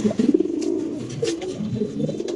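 Silver pigeons coo close by in a dense, low, throaty rumble of overlapping calls that continues without a break.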